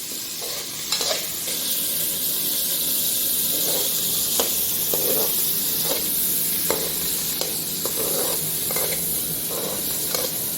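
Tomatoes fry in hot oil in a pan: a loud, continuous hissing sizzle up close, broken by regular light clicks and scrapes of stirring.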